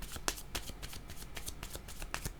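Tarot cards riffled and shuffled by hand to draw an extra card, a rapid stream of papery flicks and slaps, close and quiet, with no talking.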